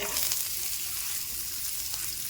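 A bay leaf crackles in hot oil as tempering for a chicken fry, with a brief, steady sizzle close by that holds at an even level.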